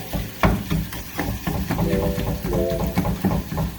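Ground beef for spicy beef empanadas is broken up with a utensil in a pan over medium heat, with repeated scraping knocks against the pan over a low sizzle and a faint tonal background.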